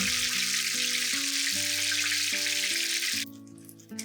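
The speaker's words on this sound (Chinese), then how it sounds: "倒入豆油100克，油温在120摄氏度时倒入葱白，中火炸大约2分钟" Scallion whites frying in soybean oil at medium heat for Shanghai scallion oil noodles, a bright steady sizzle under soft background music that cuts off abruptly near the end, leaving only the music.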